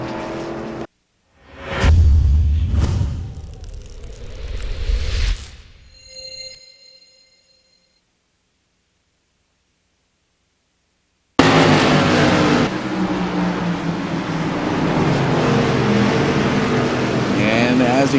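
A pace car roars past loudly on the Five Flags Speedway oval during a CRA modified race, fading into a stretch of near silence before a dense wash of track and engine noise returns abruptly.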